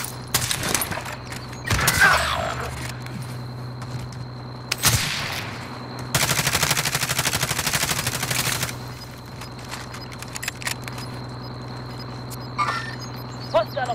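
Battle royale video game firefight: bursts of automatic gunfire and scattered single shots, with a long sustained volley in the middle, over a constant low drone of game ambience.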